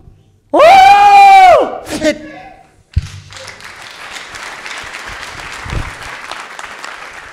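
A loud shouted voice rings out first. After a brief pause, a church congregation breaks into sustained, dense applause that carries on steadily at moderate loudness.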